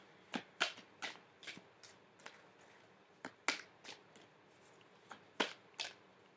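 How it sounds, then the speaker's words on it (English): Tarot cards are shuffled by hand in a quiet room, giving a dozen or so crisp riffling snaps in uneven bursts with short pauses between them, close and fairly soft. "These cards are a pain in the butt to shuffle"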